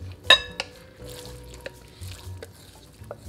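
Salad scraped from a smaller container into a large bowl: a sharp ringing clink of a utensil on the bowl, then softer scrapes and taps spaced out, quiet and close.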